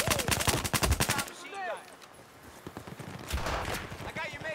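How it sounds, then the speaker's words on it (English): Rapid automatic gunfire in a Battlefield 4 team deathmatch on Operation Mortar, dense bursts of shots at the start, then a lull and another volley near the end, with game sounds and some speech in between. "our teams are just sitting there shooting back and forth"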